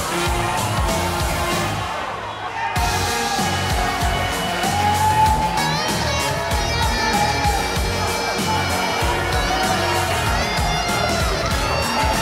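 A wrestling arena crowd in WWE 2K19 cheers and shouts in a continuous loud wash, layered with entrance music and rising after a brief dip.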